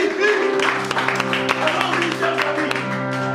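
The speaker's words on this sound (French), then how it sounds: "Acclamons très fort notre Seigneur" A church congregation applauding and acclaiming the Lord: scattered sharp claps over steady sustained music tones, with voices present throughout.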